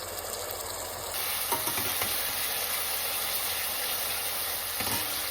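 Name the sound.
ginger garlic paste frying and stirred in pan for chicken curry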